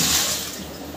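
Cold water is poured over freshly cooked soya chaap sticks to cool them. A brief, close rush of flowing water fades slightly over about a second.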